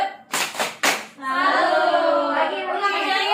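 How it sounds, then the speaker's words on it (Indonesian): Group clapping in a rhythmic 'tepuk salut' applause routine during a budgeting training simulation, with a few sharp claps first and then chanting voices over continued sound. "kita tepuk salut dulu untuk Ibu Resti"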